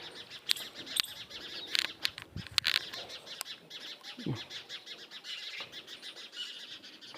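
Small birds chirp and tweet in a village yard planted with guava and custard apple trees, short sharp calls scattered close by over soft outdoor background noise, with a brief flutter of wings.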